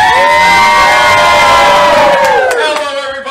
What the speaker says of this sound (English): Very lively crowd tonight